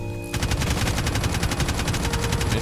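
Rapid, steady automatic fire from an AK rifle in a Roblox game, a loud, continuous burst of evenly spaced shots starting abruptly after a short quiet moment and running without a break.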